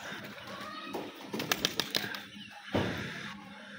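Pigeons in a loft, nearby flutters and a quick run of wing claps amid soft rustling, with a low coo-like murmur underneath.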